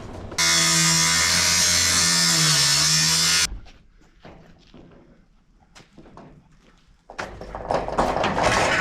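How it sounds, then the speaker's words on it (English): An angle grinder cutting metal, a loud steady high whine lasting about three seconds, then clanks and handling noises, before a rougher grinding noise starts up again near the end. "So Ben's gonna go get the grinder. We're gonna cut that out"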